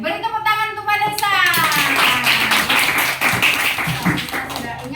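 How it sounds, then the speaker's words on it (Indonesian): A classroom claps hands together for Pak Desa during a fractions lesson, a loud burst of clapping with tapping and voices mixed in throughout. "beri tepuk tangan untuk Pak Desa"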